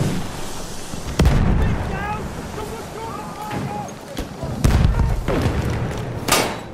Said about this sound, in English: Grenade out, my grenade!